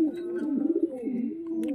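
Pigeons inside a breeding box give a close, continuous low cooing that warbles and rises and falls through the whole short stretch, with no voices.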